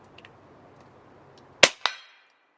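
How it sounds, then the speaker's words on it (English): Two sharp, close shots from a Snowpeak M60B .357 (9mm) air rifle, fired in quick succession with a short ringing tail after each, following a few faint clicks over quiet room hiss. "I'm just going to try to freehand shoot this little group here."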